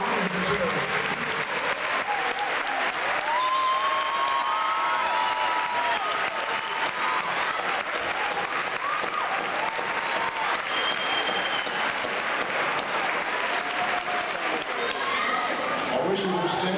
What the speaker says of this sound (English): Give the NAACP an ovation for their wonderful children.